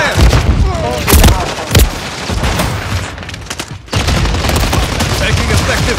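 Dense bursts of automatic gunfire and heavy booms in the video game Call of Duty Modern Warfare 3, loud and close, with shouted voices mixed in amid the chaotic firefight.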